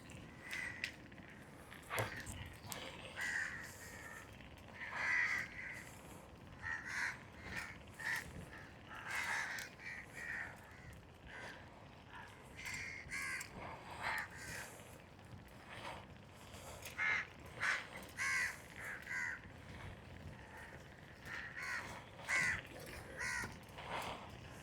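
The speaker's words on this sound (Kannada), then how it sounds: "ಇಲ್ಲಿ ಕಾಗಿ ಸೌಂಡ್ ಕೇಳಿಸ್ಲಾತಾವ್ರಿ, ಕಾ ಕಾ ಅಂತ" Crows caw repeatedly during a morning bicycle ride along the Sharjah Corniche toward Al Majaz. Irregular bursts of harsh calls, some near and some farther off, carry over light background noise.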